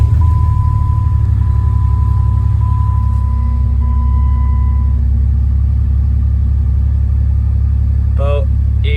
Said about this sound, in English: finally got all the oil in, so let's crank it and hope there's no leaks